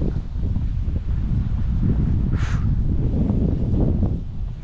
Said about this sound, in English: Really strong wind.